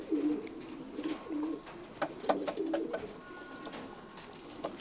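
Racing pigeons coo repeatedly in a simple, sunlit pigeon loft, a steady series of low rolling coos close by with occasional faint chirps in the background.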